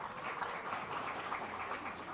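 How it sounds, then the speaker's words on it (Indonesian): A crowd at a question-and-answer gathering with a politician in Medan claps in a steady, diffuse round of applause that stays fairly quiet and even throughout. "Tepuk tangan."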